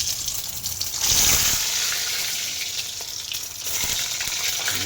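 Eggs sizzle and crackle in hot oil in a pan for a simple home egg curry, a close, continuous frying hiss that swells after the first second and stays loud.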